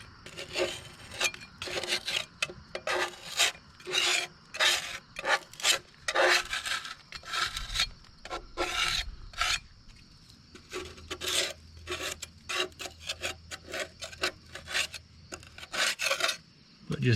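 Thick grime being scraped in rough chunks off old Chevelle parts, a close, dry rasping scrape repeated in irregular bursts with short pauses between strokes.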